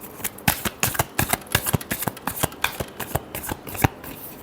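Tarot cards are shuffled by hand, close and crisp, in a quick uneven run of riffling snaps and slaps that fills the whole stretch with no voice.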